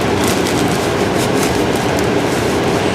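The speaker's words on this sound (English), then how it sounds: "If you guys can hear them fans, I'm sorry, but I have to have them on right now." Electric fans running indoors, a steady broadband whooshing hum that stays constant and fairly loud throughout, with no talking.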